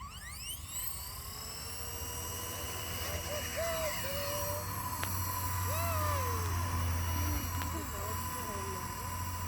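A small Blade 230S V2 radio-controlled helicopter whines steadily with a high rotor and motor tone, close and continuous, while a person speaks over it.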